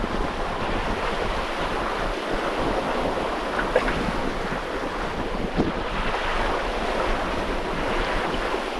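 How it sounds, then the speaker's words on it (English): Ocean waves roll against a ship in a fjord channel, a dense steady wash of water mixed with gusty wind buffeting the microphone, with no voices. "There's some waves."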